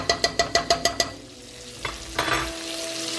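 Garlic sizzling in a pan for shrimp scampi, stirred with a spoon: a quick run of about six rhythmic scraping taps, then a rising hiss of frying with a couple of clinks, close and fairly loud, with no voices.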